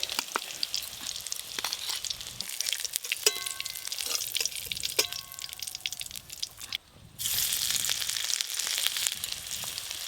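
Egg and cauliflower fritters fry in hot oil with a steady, bright sizzle and a few soft clinks, the crackle briefly dipping before returning at full strength.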